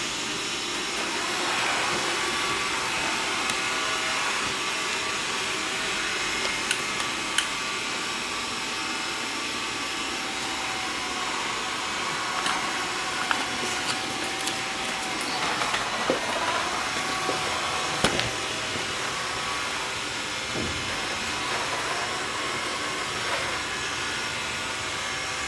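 Xiaomi Mi robot vacuum working through a big mess, a steady whirring motor hum with faint clicks and small rattles of debris being picked up, continuous and fairly close.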